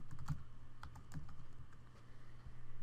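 Keys tap on a computer keyboard at close range in a quick, uneven run of clicks, with a steady low hum in the background.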